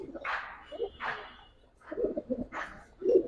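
Indian Benarasi Kaldom pigeons coo in a handful of soft, throaty phrases at close range, spaced irregularly with quiet gaps between them. A faint dog-like bark may also be mixed in.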